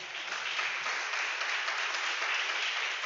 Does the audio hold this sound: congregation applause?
yes